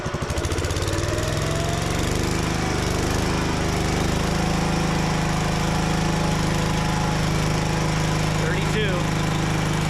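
A Gravely C10 tractor engine runs close by, revved to a steady, loud, rattling roar that holds for several seconds with little change in pitch.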